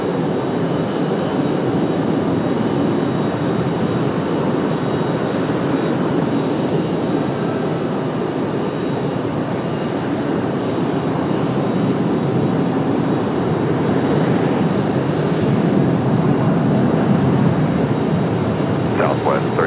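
A United airliner arriving from SFO at Raleigh-Durham International Airport makes a loud, continuous jet engine roar that holds steady and close throughout.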